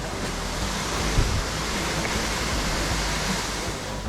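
Creekside waterfall on a rainy mountain hike up Mount Maroon, roaring as a dense, constant wash of water with a slight swell near the start, heard alone without voices.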